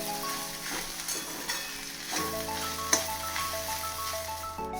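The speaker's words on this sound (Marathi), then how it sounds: "भेंडीमध्ये आपण आता मीठ टाकून घेऊया आणि भेंडी व्यवस्थित अशी हलवून घेऊया" Okra sprinkled with salt sizzles steadily in a pan at low heat while being stirred, with a few scraping knocks and a steady broadband frying hiss throughout, no talking.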